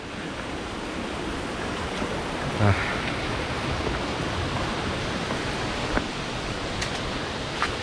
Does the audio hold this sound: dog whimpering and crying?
no